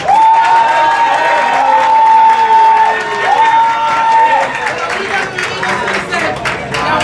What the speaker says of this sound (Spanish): Aplausos también para Tronic.